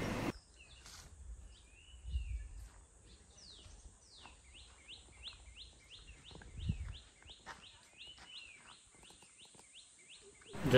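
Birds chirp and call in a quiet Konkan village, a string of small repeated tweets and whistles at moderate distance over soft low rumbles and faint background noise.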